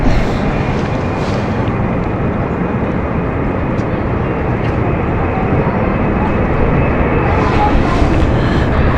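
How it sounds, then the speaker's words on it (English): The Palma flight, an airliner on its takeoff roll at London City Airport, roars as a loud, sustained broadband engine noise that stays heavy from start to finish. "ready to take off is the Palma flight. There she goes."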